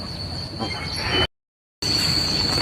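Rumbling Laos-China high-speed train noise with a thin high whine from the wheels, steady and close, broken by a brief cut to silence midway.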